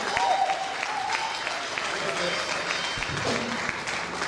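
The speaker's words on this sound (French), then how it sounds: "Clap for this choir." Sustained applause from a church congregation for a choir, steady clapping throughout with some voices mixed in.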